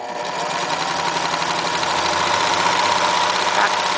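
A sewing machine runs a gathering seam on voile at stitch width 5 for a rag doll, a steady, close mechanical hum with a fast regular needle rhythm.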